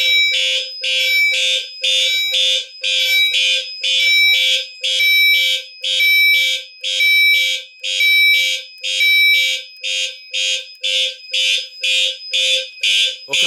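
A newly installed alarm system sounds loudly in a steady repeating pattern of shrill electronic blasts, about two per second, close by and with no other sounds around it.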